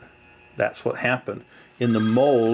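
A mobile phone rings during an epoxy degassing demonstration, its tonal ring starting after someone speaks and then continuing loudly and steadily close by.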